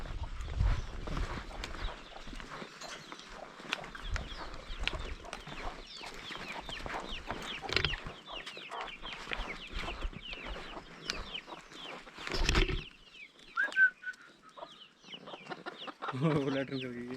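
A rooster and hens in a Himachal Pradesh mountain village give repeated short clucks and calls at close to middle distance, mixed with footsteps and scuffing, while people talk quietly nearby.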